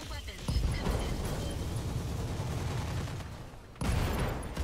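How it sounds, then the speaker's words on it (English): Dense, continuous gunfire from the video game Roguepoint roars loud and close without letup, briefly dips, then surges again, with a voice faintly present underneath. "Fire everything on this guy."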